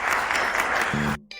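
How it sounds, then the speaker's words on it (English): An audience at a live podcast recording during a conference applauds briefly, with dense clapping that cuts off abruptly near the end as a voice begins. "By round of applause."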